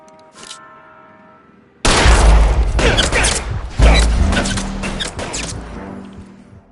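Gunshots ring out in a police shootout, a faint tone giving way to a sudden loud volley of rapid overlapping shots and booms that keep firing for several seconds, with a second heavy burst midway.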